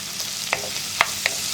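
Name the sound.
stirring ginger and onions frying in a pan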